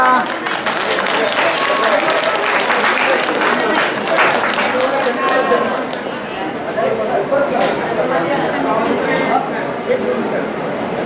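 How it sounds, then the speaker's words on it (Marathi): An audience claps in steady, dense applause throughout a temple felicitation ceremony, with voices murmuring and speaking underneath. "सगळे टाळ्या वाजवा"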